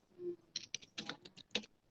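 Rapid, irregular keystrokes on a computer keyboard while an IP address is entered, close and fairly quiet, with about a dozen distinct clicks and no talking.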